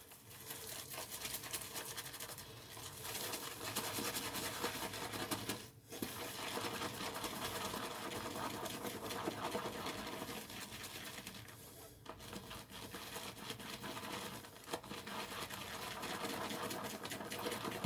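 A shaving brush whips Pinaud Clubman shave cream into lather in a bowl, making a close, continuous wet swishing that stops briefly twice.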